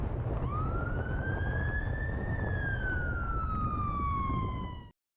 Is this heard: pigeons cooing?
no